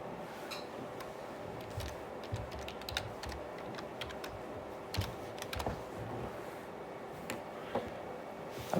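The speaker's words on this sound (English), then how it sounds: "I think I typed my password in wrong." Password being typed on a computer keyboard during an online algebra lesson, a steady run of close, light key clicks with occasional sharper taps over a faint room hum, no talking.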